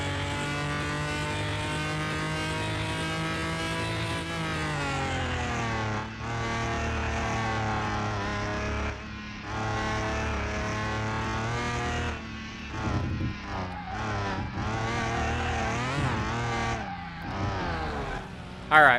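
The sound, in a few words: awful-sounding car engine in Car Mechanic Simulator 2021 video game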